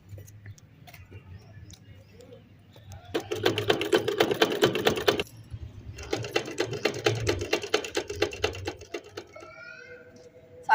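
A domestic sewing machine stitches in two rapid, steady runs of close mechanical chatter, separated by a short pause, with a low background hum and a faint voice nearby.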